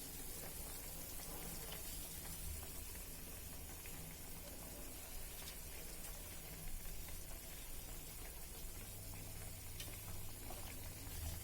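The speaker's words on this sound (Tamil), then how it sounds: "ஓகே, இப்போது நல்லா கொதிச்சிருச்சு." Kerala-style small onion theeyal curry bubbles steadily in a pan, a soft continuous simmering hiss with faint popping, quiet and close, no voices.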